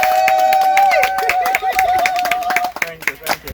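Applause for newlyweds at a wedding reception: a crowd claps in a brisk, uneven patter that runs steadily under a held musical tone and chatter before thinning out near the end.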